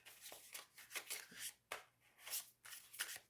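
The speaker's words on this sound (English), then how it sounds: "let me do a couple of overhand shuffles as well" Soft, papery riffling of tarot cards being shuffled overhand comes in quick irregular bursts, close and quiet, with no talking.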